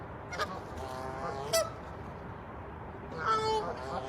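Geese honk in short bursts outdoors, a few calls set against steady background noise, some close and some farther off.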